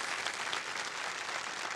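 A studio audience on the KBC game show claps in a brief, dense burst of applause, even and sustained, with no voices over it.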